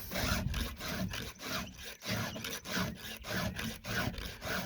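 Close, steady strokes of a file sharpening a Husqvarna 394XP chainsaw chain, a repeated rasping rub roughly twice a second, loud and continuous with no talk.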